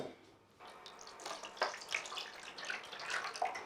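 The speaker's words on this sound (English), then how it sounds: "I'll just add a bit of water into that." Water pours into a pan used for rendering tallow, a soft splashing trickle starting after a brief pause and running steadily, fairly close and alone.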